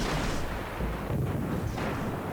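Naval gunfire in World of Warships, including a Phoenix firing at enemies, heard as continuous dense booming and rumbling salvos that stay loud across the whole stretch.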